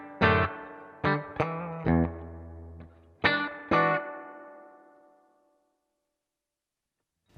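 Clean electric guitar through a Headrush Gigboard reverb effect into a clean amp: several strummed and plucked chords ring out, the last one trailing off in a long reverberant decay, with no talk.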